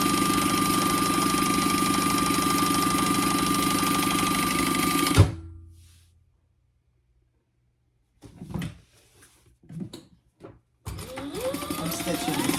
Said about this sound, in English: And then we are going to sew it across the bottom.